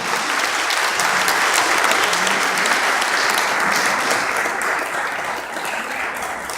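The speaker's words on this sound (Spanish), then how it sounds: "Un aplauso entonces para él." Loud, steady applause from a crowd at a Sant Jordi celebration, honoring a Catalan dancer, filling the whole stretch without pause.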